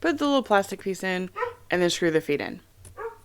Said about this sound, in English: That's my dog barking at my chickens.